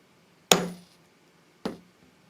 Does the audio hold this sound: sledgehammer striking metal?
yes